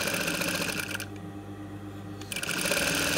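Machine stitching across weft hair extensions, a close, rapid mechanical whirring that slows and quiets for about a second midway, then speeds back up.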